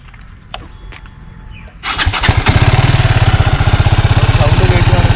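BMW G310GS motorcycle engine cranking and starting after a quiet moment, then settling into a steady, loud, close-up idle with a fast even pulsing rhythm.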